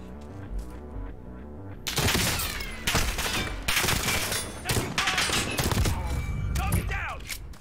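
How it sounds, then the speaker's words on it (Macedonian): Rapid video-game gunfire, dense bursts of loud overlapping shots and fusillades starting after a quieter opening, continuing steadily to the end. "Сега може да пукам."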